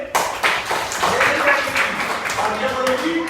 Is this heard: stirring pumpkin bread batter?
no